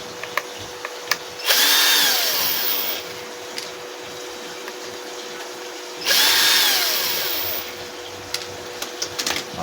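A power tool whines in two separate bursts of a few seconds each while removing screws from inside a PWM solar charge controller, close and loud, with small clicks between the bursts.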